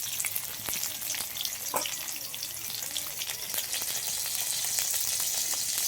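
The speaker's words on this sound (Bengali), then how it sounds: "এবার তেলের উপরে দিয়ে দিচ্ছি জিরে আর গোলমরিচ।" Cumin, black pepper, green chillies, garlic and a little chopped onion fry in hot oil in a home kitchen. A continuous, fairly quiet sizzle with scattered crackles and pops holds steady throughout, with no talking over it.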